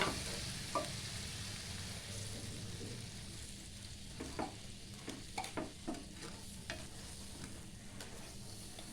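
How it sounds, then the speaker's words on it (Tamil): Bread slices fry in a pan as milk is poured in a little at a time for bread halwa, giving a steady close sizzle with a few soft stirring clicks and bubbling pops, no voices. "இப்போ இதில் பால் சேர்த்துக்கலாம். கொஞ்சம் கொஞ்சமாக சேர்த்துக்கோங்க"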